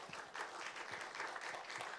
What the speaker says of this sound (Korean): 한 번 더 환영의 박수 드리겠습니다.